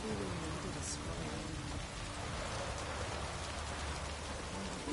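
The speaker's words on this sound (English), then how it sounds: "Looks like rain." Steady, heavy rain hisses across the whole stretch, a dense wash of falling water with no break.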